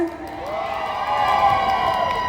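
A crowd of fans cheers and screams at a Thai country singer's concert appearance in Bangkapi, a loud, sustained roar of shrieks that swells and holds throughout.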